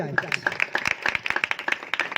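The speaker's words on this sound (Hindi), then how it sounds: "यीशु के लिए जोरदार ताली बजाएं।" Rapid rhythmic clapping from a church congregation, steady quick beats close by, with a pastor speaking over the start.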